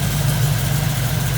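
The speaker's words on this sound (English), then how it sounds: "You can see that it's kind of rough idle." A car engine idles roughly and steadily, a low uneven rumble with a slight wobble, close and continuous with no talking.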